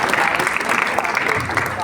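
Audience applause at an Arya Samaj Republic Day program in Noida, a dense burst of many hands clapping close by, sustained and even across the moment.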